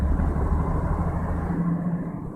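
A 2001 Ford Mustang with a misfire driving slowly in third gear, heard from inside as a steady low engine rumble with a slightly uneven, loping throb.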